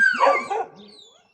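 A dog barks and yelps sharply up close, a quick burst of a few barks that fades out within about a second, with no talk over it; the setting is a rainy day.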